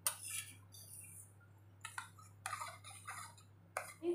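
Light clinks and scrapes of a spoon against a bowl, coming in short irregular bursts with quiet pauses between, close by and fairly soft.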